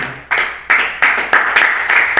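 A church congregation claps in rhythm, a loud crowd of hands beating out steady, evenly spaced pulses in a reverberant hall without speech.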